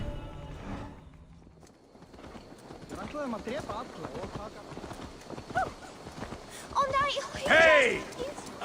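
A horse's hooves clip-clop in Assassin's Creed Valhalla, a steady walking rhythm of moderately close steps, partly under people talking and surrounded by game ambience.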